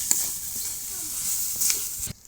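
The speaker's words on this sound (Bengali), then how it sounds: "এই যে আমার চিংড়ি মাছ পেঁয়াজ টিয়াজগুলো ভাজা ভাজা হয়ে গেছে" Shrimp and onions fry in a pan with chilies, a bright steady hiss with a few faint stirring knocks, close by, before the sound cuts off abruptly.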